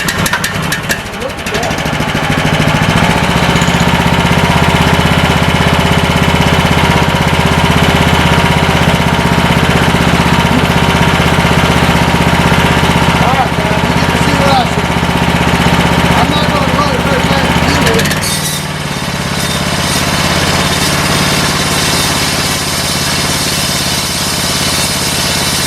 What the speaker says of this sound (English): First time this old motor's ever been fired up.